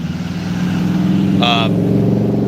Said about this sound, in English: the car going by